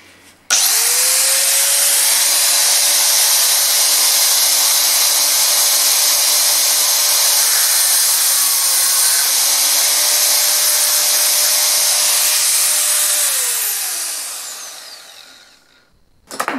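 A slitting disc cuts through the shank of a high-speed steel drill bit, a loud, steady high-pitched grinding whine that holds for about thirteen seconds before spinning down and fading out.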